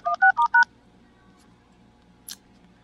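Four quick, loud phone keypad DTMF tones beep in a fast run as someone dials back at a spam caller, followed by quiet hiss and one brief high click near the end.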